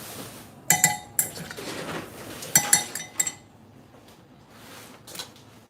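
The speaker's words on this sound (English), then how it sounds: "And then I'm just gonna stir the yeast and the milk together and the sugar." A utensil stirs yeast, milk and sugar in a bowl, with bright clinks and scraping taps against the sides that come in quick clusters and then fade to softer, sparse knocks.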